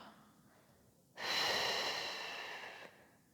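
A single strong exhale during a Pilates exercise with a ball, rushing in abruptly after a quiet pause and holding steady for nearly two seconds before cutting off. It is close and breathy and stands alone.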